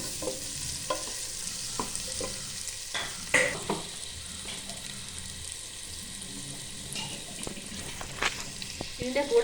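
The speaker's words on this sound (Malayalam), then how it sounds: "ഇതൊന്ന് ചൂടാകുമ്പോൾ നമുക്ക് ഇതിലോട്ട് സവാള അരിഞ്ഞ് വെച്ച 3 സവാള ചേർത്ത് കൊടുക്കാം" Three sliced onions fry in hot oil for a chicken biryani, giving a steady, close sizzle with scattered clinks and scrapes of stirring throughout.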